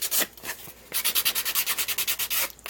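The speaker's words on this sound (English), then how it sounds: "I take a fingernail file and I just scrape my edges." Fingernail file scraped along the cut edges of paper for a Halloween decoration, heard as a burst of rubbing strokes and then a quick, steady run of about a dozen rhythmic rasping passes, close and fairly loud, with no talk.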